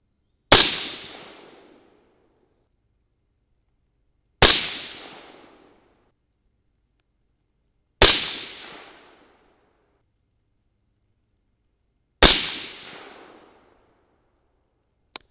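Four loud rifle shots of Mk 262 clone handloads with 24-grain Nosler bullets and AA2520 powder ring out on a range, evenly spaced about four seconds apart, each a sharp crack with a short fading tail.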